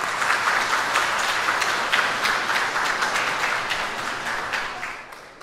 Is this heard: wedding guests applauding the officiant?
yes